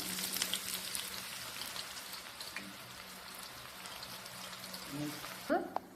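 Onions crackle and sizzle in hot oil for a vegetable dum biryani, a steady bright frying hiss that runs throughout, with a few louder pops near the end.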